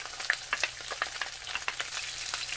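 Onion is added to a pan of frying garlic and sizzles with crackling pops and stirring scrapes, close and steady, with no talking.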